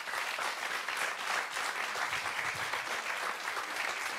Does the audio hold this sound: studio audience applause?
yes